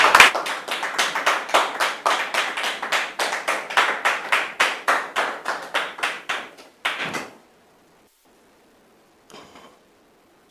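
A studio audience at a church-style talk show welcoming guests with loud, rhythmic clapping in unison, about four claps a second for some seven seconds, then stopping abruptly into near silence with one faint brief sound after.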